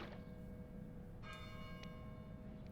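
A church bell rings from a bell tower in a video game, with a few soft, distant chimes that ring out over a steady low ambient drone.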